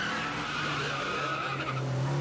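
A car in the Yakuza 0 video game drives with a steady engine drone as its tires squeal through a long skid, loud and continuous for a couple of seconds, with no talking.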